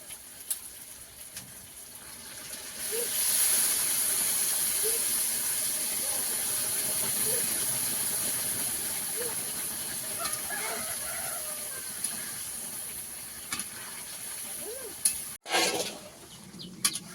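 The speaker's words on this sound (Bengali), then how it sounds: "এদিকে জল চাপানো আছে গরম জল গরম জল দিয়ে দিলে তাড়াতাড়ি হয়ে যাবে এবার দিয়ে দেওয়া হবে ফুটন্ত জল" Boiling water poured into a simmering pot of country chicken curry with thick Malabar spinach, giving a broad steady hiss and bubbling that starts a few seconds in and holds, ending with a clatter.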